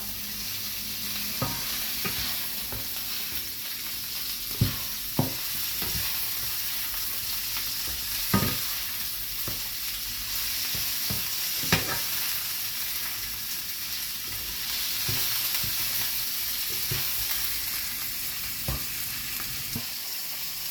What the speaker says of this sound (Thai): พอกุ้งเริ่มแดงๆสุกๆแล้วนะครับ เริ่มใส่ไข่ไปได้เลยนะครับ